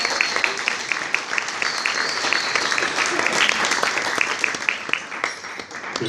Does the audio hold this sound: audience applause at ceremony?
yes